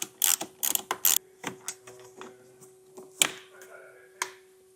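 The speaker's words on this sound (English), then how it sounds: "I'm just going to remove the 10mm bolt that's holding it up." Ratchet clicks in quick bursts while a 10mm bolt is backed out during a Curt trailer hitch install on a 2018 Toyota Highlander, followed by scattered metallic taps and clicks, close and fairly loud.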